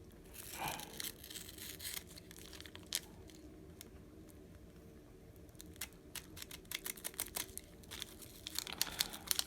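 Cardboard and tape are cut and torn away from a mailed package, giving faint, close crinkling, scraping and ripping sounds in irregular bursts that grow busier toward the end.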